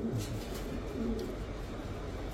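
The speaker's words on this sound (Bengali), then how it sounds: "একদম কবুতরটা দেখেন ভাই, একদম মাশাআল্লাহ পুতুলের মতো কবুতর" A racing pigeon coos softly a few times in a low, throaty rhythm, close but faint, against a quiet background.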